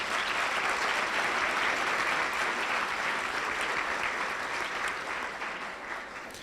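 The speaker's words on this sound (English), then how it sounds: "let's give all of our event sponsors one last round of applause" Sustained audience applause at a Making Strides Against Breast Cancer kickoff event honoring sponsors, a dense steady clatter of many hands that stays loud and then tapers slightly toward the end, with no voices over it.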